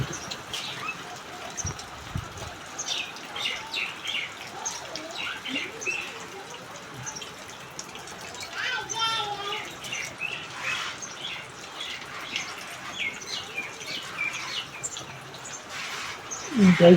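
Sparrows chirp in quick, scattered bursts against a soft background patter of rain, fairly close, with a brief thump near the end.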